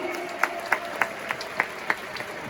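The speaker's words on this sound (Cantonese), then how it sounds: "大家咧都俾少少掌聲支持下喺場入邊嘅觀眾先" Spectators at a youth dodgeball final give scattered applause: sharp claps fall at an even, steady rhythm over a low hum of crowd noise in an indoor venue.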